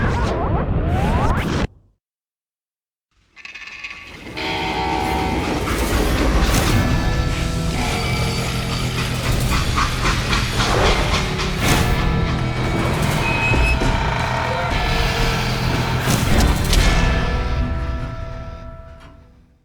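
A freight train in the video game Call of Juarez: Gunslinger rumbles and clatters loudly and steadily after a brief silent gap, with whooshing metallic rattles layered over a dense low roar.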